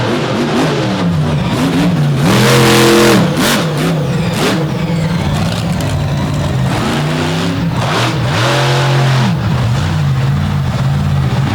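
An off-road race truck in a competition event launches and accelerates hard, engine roaring loud and close with repeated rising and falling revs as it surges and shifts.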